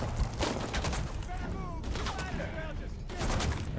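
Dense, continuous gunfire in Shadow of the Tomb Raider, loud overlapping shots and bursts filling the whole stretch, with voices talking excitedly underneath.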